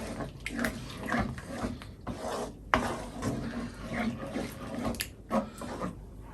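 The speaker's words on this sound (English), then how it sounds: "Just mix that in nicely." Creamy tikka masala sauce stirred in a pan, a steady rasping scrape of the spoon repeating in rough strokes, close and fairly loud with no talk.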